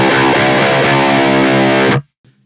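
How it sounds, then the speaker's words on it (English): An electric guitar is picked hard through a compressed, distorted overdrive tone and drifts sharp as it sustains loud and dense. It cuts off abruptly near the end, then a faint brief note follows. "You can kind of hear my guitar going sharp because I'm picking really hard."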